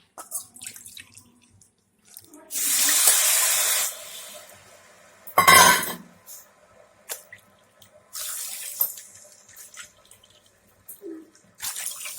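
Water pours into a pot of sugar for gulab jamun syrup, about three bowls to one and a half bowls of sugar, in two short close splashing bursts with quiet kitchen clatter between.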